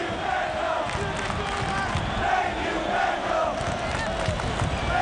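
Stadium crowd at the LA Galaxy v Houston Dynamo MLS Cup Final serenading David Beckham, a steady, dense roar of many voices chanting and cheering that fills the whole stretch without pause.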